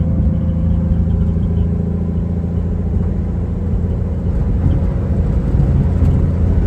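A 1956 Chevy 210 cruises down the road on its first drive in 25 years, its engine giving a steady, loud, low rumble heard from inside the car with no one talking.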